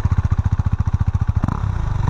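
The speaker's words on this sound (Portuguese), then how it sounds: "Olha o som de escape." A KTM Duke 390 motorcycle exhaust idles loudly up close in a fast, steady putter of low pulses, then the beat quickens and roughens as the throttle opens briefly.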